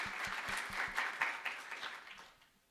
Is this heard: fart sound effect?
no